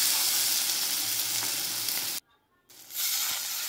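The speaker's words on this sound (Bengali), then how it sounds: "খুব সুন্দরভাবে কষিয়ে নিচ্ছি দেখুন।" Spices and a fish curry base for a rohu fish curry sauté in a pan over low to medium heat, giving a continuous close sizzle broken by a brief silent gap.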